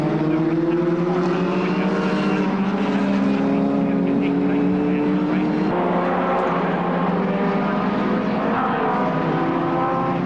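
Single-seater racing cars in a Monoposto Championship race, including a Vauxhall Reynard, roar past in a steady dense stream of high engine whine with rising and falling pitch, a commentator talking over the continuous noise.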